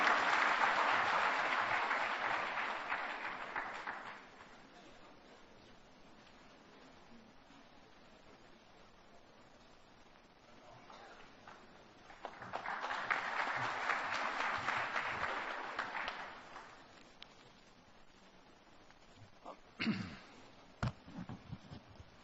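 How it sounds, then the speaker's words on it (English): Applause from the audience at a chartered accountants' gathering greets a speaker. It comes in two soft swells, with a quieter stretch of room noise and a few scattered handclaps in between. "Please give with big round of applause."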